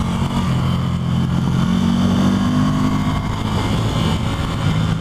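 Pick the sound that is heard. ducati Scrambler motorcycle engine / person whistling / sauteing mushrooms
ducati Scrambler motorcycle engine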